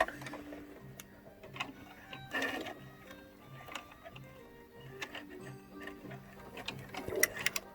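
A sewing machine stitches elastic onto a fabric face mask, a quiet steady mechanical ticking run close by, with brief pauses and soft handling clicks between stitching bursts.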